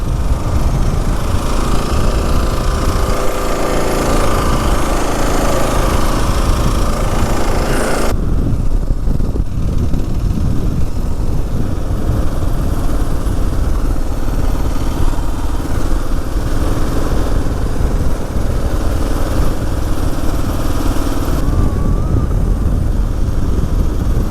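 A Kawasaki KLR 650 motorcycle engine runs steadily while riding, a loud continuous drone with wind rush throughout and a slight shift in tone partway through, with no talking.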